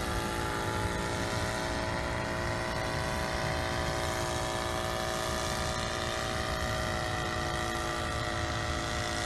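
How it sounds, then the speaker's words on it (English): An SK1000 UAV helicopter descends toward a 20-meter hover under autopilot, its rotor and engine giving a loud, steady, continuous drone with strong tonal hum. "So now the helicopter reached the home position and is descending to 20 meters."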